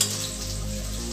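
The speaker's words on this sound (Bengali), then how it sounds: "চিকেনটা ম্যারিনেট করা চিকেনটা আমি দিয়ে দিলাম" Marinated chicken hits a hot pan in a Bengali home kitchen, giving a steady, close sizzle of frying that holds evenly for about a second with no talking.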